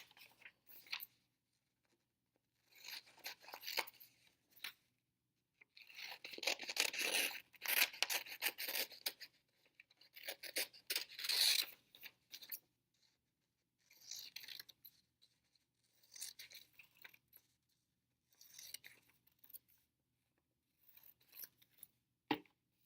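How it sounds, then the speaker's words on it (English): Scissors snip through paper while a row of a paper flipbook is cut out, giving bursts of crisp cutting close up with short pauses between strokes and no talking. "what I'm going to do is cut out the first row of my flipbook"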